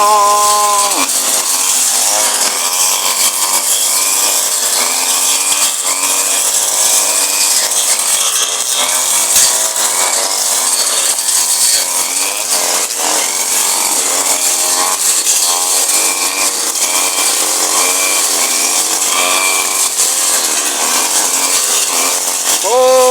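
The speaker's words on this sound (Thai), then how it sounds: "ครับผมเครื่องตัดหญ้า วาสบินะครับ กระทะมาคิต้า" A small engine runs steadily and loudly throughout, its revving pitch wavering slightly, like a brush cutter working close by without pause; Wasabi and Makita brush cutters.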